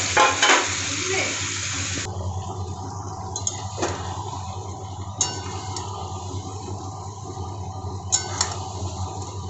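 Chicken goes into hot oil already fried with whole garam masala, a dried red chilli and cumin seeds, setting off a soft sizzle with a few sharp clinks of utensil on pan, no talk.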